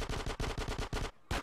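Rapid automatic gunfire in GTA San Andreas on PS2, a loud burst of about eight evenly spaced shots, then a brief gap and one more shot.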